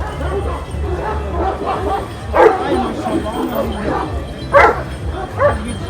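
Kangal and other Anatolian shepherd dogs at a breed-standard dog festival bark and yip in scattered bursts, with a few sharper louder barks standing out, amid constant crowd chatter and someone talking nearby.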